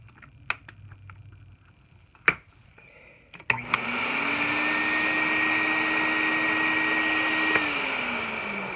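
A few clicks and a sharp knock, then a Filter Queen Majestic Triple Crown vacuum cleaner switches on and runs with a loud, steady whine and airy roar, winding down slightly at the end.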